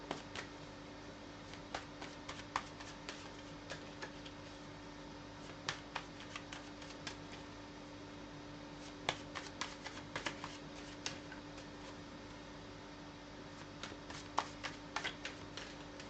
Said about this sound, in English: And now we are going to shuffle for Libra.